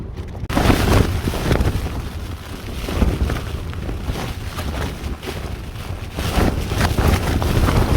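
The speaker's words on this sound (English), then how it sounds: "every now and then you get a massive gust" Strong wind gusts around a Lanshan tent: a loud, continuous rushing buffet with surges and flapping fabric, right at the microphone.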